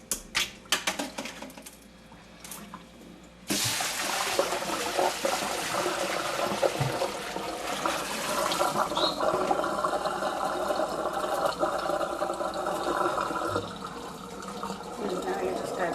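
Running water splashes steadily over freshly harvested bulberries in a strainer, a continuous rushing rinse with clinks and rattles that starts abruptly after a quieter opening, loud and close.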